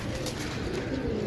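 Desi pigeons cooing steadily and close up, a dense, continuous layering of low throaty coos with no break.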